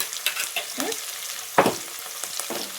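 Turmeric being stirred into an egg curry base of onions frying in a pan, a close sizzle broken by several scraping spoon strokes, one louder stir in the middle.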